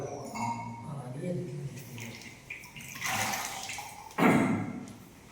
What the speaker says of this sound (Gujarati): પાણી ઉતારવાનું બરોબર.